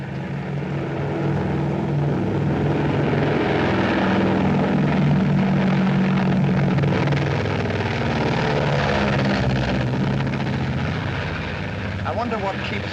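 A propeller aircraft drones steadily overhead for the whole stretch, a loud, continuous engine hum with voices talking faintly beneath it.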